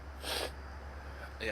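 A single sneeze bursts out near the start, and a second short burst follows near the end, both over a low steady hum and casual conversation.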